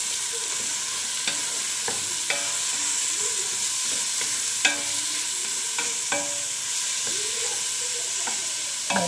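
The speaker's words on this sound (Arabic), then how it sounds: "وكده البصل اتشوح اهو" Onions softening in a hot pan give a loud, continuous sizzle, broken by repeated scrapes and clicks as a spoon stirs them, with no voices.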